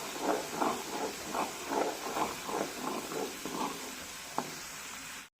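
Herbal hair oil made with hibiscus flowers sizzles and hisses steadily in an iron pan, with soft rhythmic scraping pulses from stirring over the constant frying noise, close and fairly quiet.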